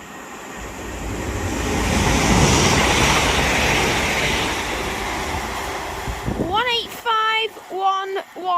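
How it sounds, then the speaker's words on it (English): A Transpennine Express Class 185 diesel unit on the Liverpool Lime Street to Hull service passes through at Rainhill, building to a broad loud rush and fading, followed by a person talking near the end. "this Transpennine Express Class 185 will pass through with the 1703 Transpennine Express service to Hull from Liverpool Lime Street"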